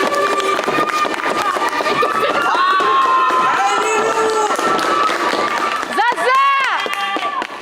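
Evening applause and cheering ring out from apartment balconies in a locked-down Marseille northern neighbourhood, with whoops, shouts and excited voices carrying across the buildings, loud and sustained, swelling near the end.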